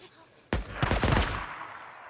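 Sniper gunfire in the video game Days Gone cracks out as a sudden loud burst of shots that quickly rings away, with no talk.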